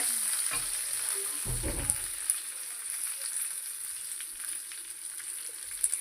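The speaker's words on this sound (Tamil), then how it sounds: "கருவேப்பிலை போட்டுக்கோங்க. எல்லாம் பொரிஞ்சு வந்ததுக்கப்புறம்" Curry leaves dropped into hot oil fry with a loud, continuous sizzle and spluttering crackle, close by, with a brief burst of stirring or clatter near the start and scattered pops throughout.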